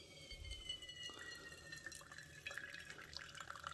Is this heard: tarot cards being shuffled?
no